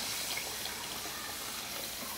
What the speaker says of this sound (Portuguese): Já tá aqui quase fervendo. Minha gente, olha isso, eu amo esse barulhinho.